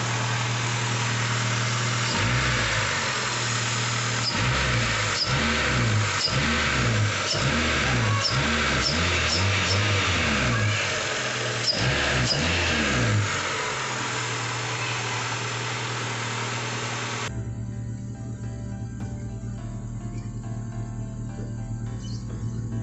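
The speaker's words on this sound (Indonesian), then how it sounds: "Dari asap bisa kita lihat kondisi idle bersih, digas juga bersih" Daihatsu Taruna engine running right after a top overhaul, idling steadily with a string of sharp revs in the first half before settling into a smooth idle, close up and loud with no talk.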